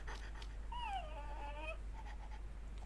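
A small dog whimpers in a thin, wavering whine in the video game Ju-on, with faint panting around it over a low steady hum; quiet and fairly close.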